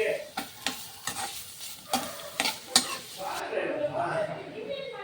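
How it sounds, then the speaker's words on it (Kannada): Bitter gourd frying in a spoonful of oil in a pan, with sharp scraping strokes of stirring at a steady rhythm over a soft sizzle that becomes a continuous crackling fry near the end. "ಹಾಗಲಕಾಯನ್ನು ನಾನು ಚೆನ್ನಾಗಿ ಫ್ರೈ ಮಾಡಿಕೊಂಡು"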